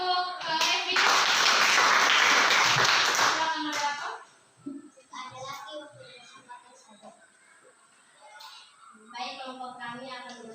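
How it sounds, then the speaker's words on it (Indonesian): A school classroom breaks into a short burst of applause, a few seconds of loud, dense clapping that fades out, followed by a teacher and pupils talking in the room. "Baik, tepuk tangan"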